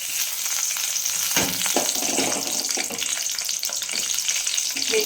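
Onions and curry leaves fry in hot oil with a constant close sizzle, broken by a few scraping stirs of the pan.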